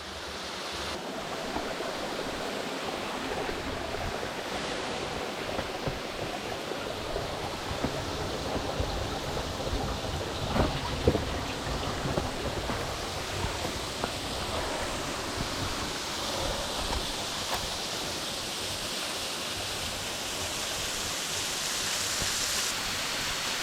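A hidden waterfall in the Tamborine Mountains, with two cascades flowing weakly: a steady, dense rushing wash of falling water, constant and fairly close, with no voices.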